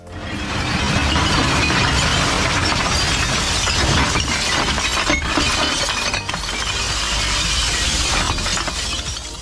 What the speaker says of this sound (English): the drivers back up to a massive storage bay and release the load, sending a cascade of bottles tumbling down